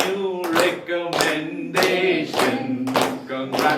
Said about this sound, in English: let's rise and clap for them